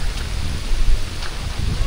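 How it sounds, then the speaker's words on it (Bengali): Heavy rain pours steadily at a lakeside campsite on an island in Kaptai Lake, Rangamati, as a dense, continuous hiss with a low rumble beneath it and no talk. "অনেক জোরে বৃষ্টি নামছে।"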